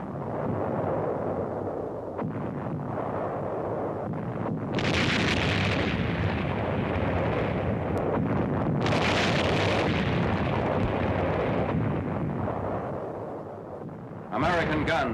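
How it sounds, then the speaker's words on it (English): Heavy mortar and 3-inch gun shells blast the grounds and buildings of a university during WWII, a rough newsreel roar with repeated bursts and crackling noise over a constant rumble. "Shells from Jap heavy mortars and 3-inch guns blast the grounds and buildings of the university"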